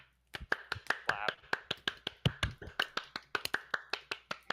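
A small group claps in a quick, ragged rhythm of about twenty sharp hand claps over a few seconds at a fireside gathering, close and fairly loud, with no talking over it.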